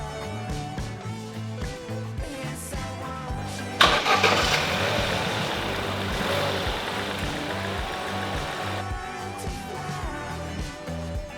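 A Vauxhall Corsa engine starting after an oil change: a faint cranking, then the engine catches with a sharp burst and settles into a steady, fairly loud idle before quietening.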